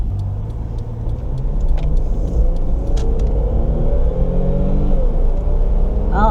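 A 2001 Toyota Sienna minivan with a 4-speed transmission accelerates gently downhill, its engine rising from a low rumble to a steady drone over road noise from inside the cabin, with a brief whine near the end.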